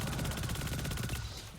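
Rapid, steady bursts of exotic weapon fire from Destiny 2, shot while standing on the ground, repeating evenly and loud for about a second before the fire stops and dies away.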